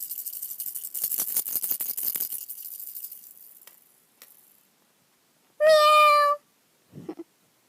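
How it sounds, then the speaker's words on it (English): Baby doll set's toy pet cat, a rattling cat figure: rattling and clicking first, then one loud electronic meow close by, followed by a brief softer squeak. "next is Harmony Be Sharp and their pet rattling cat"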